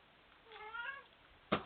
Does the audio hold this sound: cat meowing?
yes